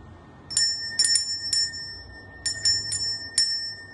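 A bright, high bell rings in quick clusters of two or three strikes, each leaving a short shimmering ring over a quiet background.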